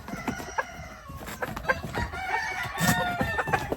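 A purebred Golden Boy Sweater rooster crows loudly and close by on a farm, with clucking and other chicken noises around it.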